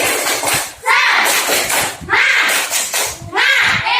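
Schoolchildren in an elementary classroom perform a rhythmic spirit clap, bursts of clapping and tapping mixed with their loud chanting voices in repeating phrases, close and lively.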